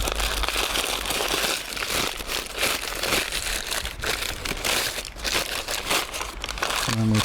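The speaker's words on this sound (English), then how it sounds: "baking paper or greaseproof paper, just scrunch that up so it's easier to work with." Baking paper or greaseproof paper scrunched up by hand for lining a Manchester tart base, a steady, close, continuous crinkling and crunching that runs for several seconds without speech.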